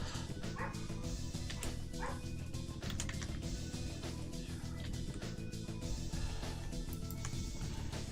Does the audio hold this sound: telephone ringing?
no